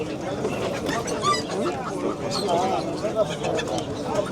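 Pigeons at an outdoor bird market coo and chirp amid steady crowd chatter, the soft calls rising now and then through nearby voices talking throughout.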